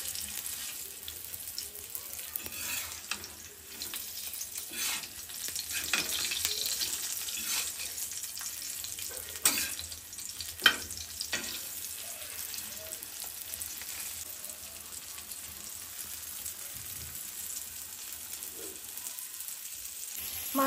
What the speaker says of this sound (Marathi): बारीक गॅसवरच आपले मासे आपल्याला फ्राय करायचे आहेत.